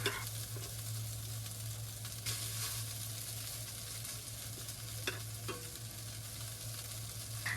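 Rice frying in a pan with chopped ginger gives a steady, moderate sizzle with occasional stirring scrapes and clicks, continuous throughout, with no talking.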